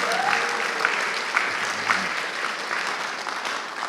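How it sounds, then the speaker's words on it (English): An audience at a college state-of-the-college address breaks into sustained applause, a dense clatter of many hands clapping with a few louder claps standing out. "That's a big applause. Y'all need to scream and yell, that's a big deal."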